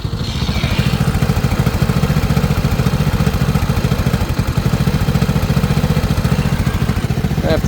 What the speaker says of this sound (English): But it does idle good like that